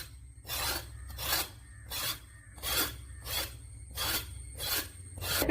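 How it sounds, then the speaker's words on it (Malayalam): Knife scraping the outer skin off a snake gourd in steady rhythmic strokes, about a dozen close raspy scrapes at a regular pace with no talking. "പുറത്തുള്ള തൊലിയൊക്കെ ഒന്ന് കളഞ്ഞെടുക്കാം"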